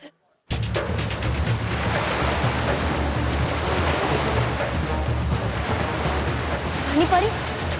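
Loud, constant rush of flood water and crashing waves starts abruptly after a moment of near silence and surges on without a break, a broad roaring wash with faint voices underneath near the end.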